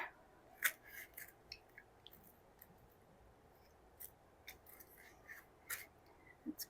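Scissors snip through material during a no-drill solar panel install on a camper van, giving a series of sharp, close, fairly quiet cuts at irregular intervals over a low background hush.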